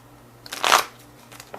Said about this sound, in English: And randomly shuffling some cards here.